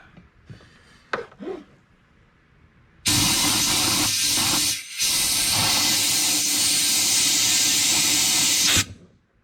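Air hisses loudly and steadily from a leaking tire bead on a Mule utility vehicle, a long continuous rush that dips briefly and then cuts off, after some faint handling noises.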